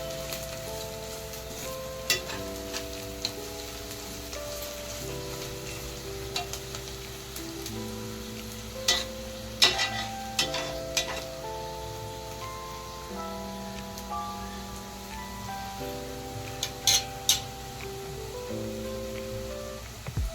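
Onions with salt being stirred and fried in a pan for veg kurma give a faint, rain-like crackling sizzle with occasional light spatula clicks, largely under steady backing music and with no voices.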